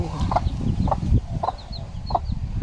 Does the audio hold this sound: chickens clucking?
yes